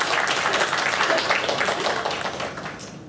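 Applause for a veteran supermodel walking the runway at a fashion week show, a dense wash of clapping from the audience that fades slightly toward the end.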